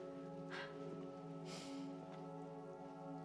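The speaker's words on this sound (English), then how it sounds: "Now it's raining inside?" Steady rain falling indoors in the Silent Hill 2 Remake video game, a continuous soft hiss over a low sustained musical drone, with a few brief louder swells of spattering drops.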